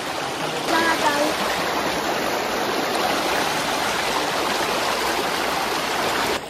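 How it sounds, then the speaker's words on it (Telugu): Rainy-season floodwater streams through a Godavari village, a continuous close, loud rushing of water, with a brief voice near the start and the flow running steadily to the end. "చూస్తున్నారుగా ఎట్లా వచ్చినాయి వాటర్."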